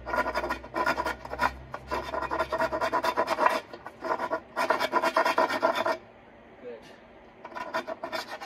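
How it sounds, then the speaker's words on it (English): Rapid rasping strokes of a blade shaving the wooden sides of a handmade Tenkan overtone flute, coming in close, busy bursts for about six seconds before fading to quiet scraping. "you can hear me shaving the sides"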